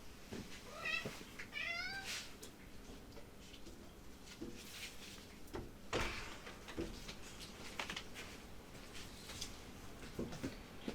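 An orange house cat gives a few short, rising meows near the start, fairly faint against a quiet room with soft rustling and tapping afterward.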